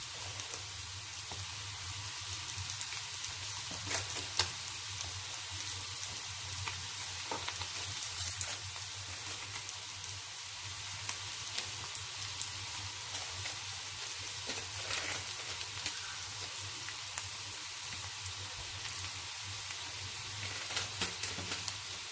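Baby potatoes frying in a pan after salt, turmeric and chili powder are added, a steady close sizzle with faint scraping of stirring running throughout, no talking.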